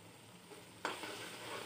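A spoon moves through matar pulao with peas and rice in a pot, a soft faint scrape under a low sizzle, with one sharper knock of the spoon partway through.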